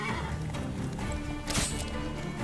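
A horse whinnies amid clopping hooves and dense battle noise in The Witcher 3 as its rider is knocked off, with a sharp burst of impact partway through.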